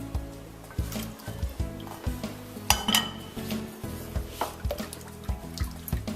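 A spoon stirs unflavoured gelatin into melted chocolate in a bowl, giving close, rhythmic scrapes and clinks against the bowl at roughly regular intervals, with no speech.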